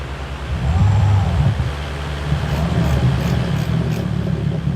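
Big Bot tractor engine in Farming Simulator 19, a steady low rumble running throughout with a slight rise early on; close and continuous, with no talking.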